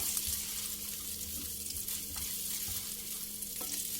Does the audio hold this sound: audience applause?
no